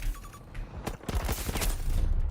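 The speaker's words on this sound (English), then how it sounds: "It doesn't only have bombs, it's also got some cannons." Aircraft cannons firing in Battlefield 2042, heard as a loud burst of rapid gunfire in the middle of the clip amid other battle noise.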